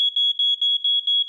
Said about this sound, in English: A photoelectric alarm, meantime, is triggered by the first wisps of smoke